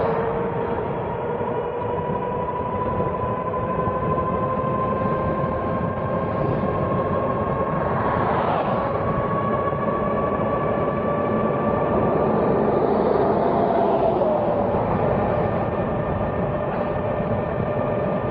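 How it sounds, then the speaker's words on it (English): Polarna electric bike motor at full throttle, drawing about 900 watts: a steady whine that rises slowly in pitch over constant wind and road noise, with no talking. "Okay, now I'm going to go to full throttle."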